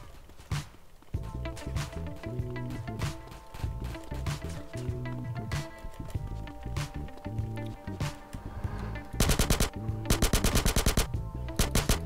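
Repeated bursts of video game gunfire in GTA San Andreas, sharp rapid shots in clusters over a rhythmic music track, ending in dense automatic fire.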